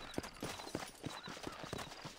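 Horse hooves clip-clopping in Red Dead Redemption, a steady rhythmic series of about a dozen clear hoofbeats at close range over faint game ambience.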